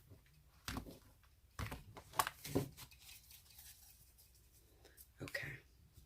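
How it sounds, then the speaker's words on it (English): An oversized deck of tarot-style cards is shuffled by hand, giving several short papery riffles and slaps at uneven intervals with quiet pauses between. "It takes me forever to shuffle these cards because they're so big and my hands are so small."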